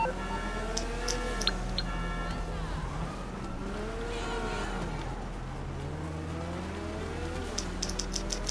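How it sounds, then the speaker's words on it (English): Car alarm blaring in a video game, a continuous wailing, sweeping tone that rises and falls in repeated cycles, loud and steady throughout with faint higher chirps layered on top. "I didn't even touch the damn car and the alarm went off."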